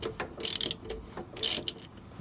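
A drag link socket is ratcheted on the steering linkage of a Peterbilt 352. Two bursts of bright metallic clicking sit close by, separated by lighter mechanical ticks and clanks.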